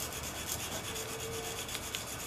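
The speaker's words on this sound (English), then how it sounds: "And this is a coarse stone, and you do most of your work on the coarse stone." A knife blade is drawn across a coarse, water-wetted sharpening stone, giving a steady, close gritty rasping that continues evenly throughout.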